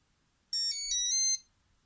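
The New Direction Tackle K9 R9 fishing bite alarm sounds one short burst of its tone: a bright, pulsing electronic warble close by that lasts under a second, with near silence on either side.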